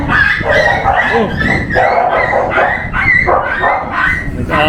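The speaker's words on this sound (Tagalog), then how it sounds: "Nag-away na yung mga aso." Dogs fighting at a family home, with loud repeated yips, whimpers and snarling barks in quick close bursts, overlapping with people talking.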